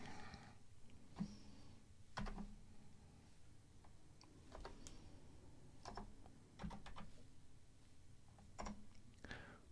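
Quiet typing on a computer keyboard, scattered bursts of close key clicks and taps with pauses between them and no talking.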